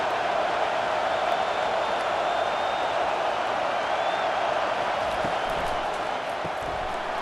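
Stadium crowd at a Texas Longhorns vs. Arkansas Razorbacks college football game roars steadily on third down, a dense, sustained wall of cheering that holds loud throughout with no pauses.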